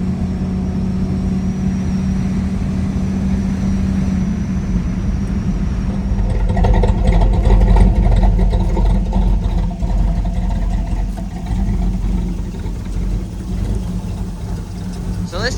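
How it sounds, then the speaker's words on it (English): An old Chevrolet Squarebody truck, a former race car hauler, pulls a Bobcat of about 2,500 pounds. The engine idles with a low rumble, then accelerates into a louder, rougher roar midway and eases off, with a voice talking at times. "This is literally just a rip around just to see how the Squarebody pulls."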